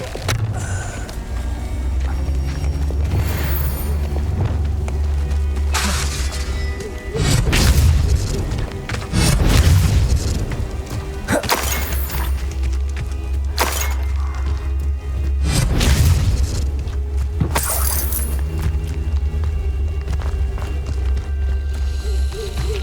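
Repeated Confringo fire-blast spells in Hogwarts Legacy boom and shatter over a steady low rumble, several bursts landing in turn, with running and crackling debris between them.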